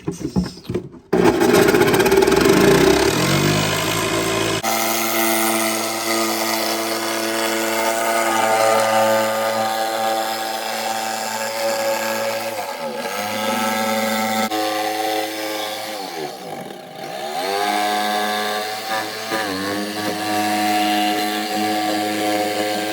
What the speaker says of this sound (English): he's going to drill from the outside while watching